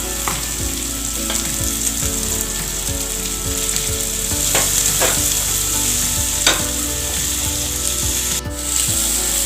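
Sliced large onion frying in coconut oil with cumin seeds in a pan, a steady close sizzle with occasional stirring scrapes and clinks, no voices.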